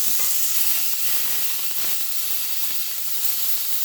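Steaks sizzle loudly in a hot pan just after being flipped, a dense, steady hiss and crackle that holds without a break throughout.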